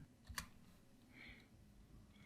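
Someone types a short command on a computer keyboard in a Linux terminal, with a few faint, sparse key clicks close by in a quiet room.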